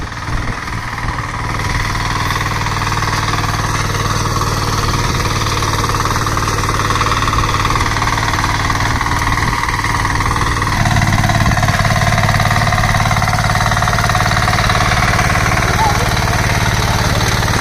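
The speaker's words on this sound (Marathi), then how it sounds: "शेताची कामं जमायला पाहिजे ना, म्हणून आता केतनबाई पण ट्रॅक्टर शिकतात" A power tiller tractor engine runs steadily in a field during sowing, a loud continuous chugging drone that shifts slightly in pitch partway through, with people talking over it.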